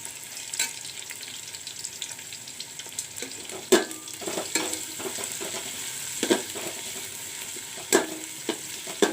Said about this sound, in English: let the onions fry nicely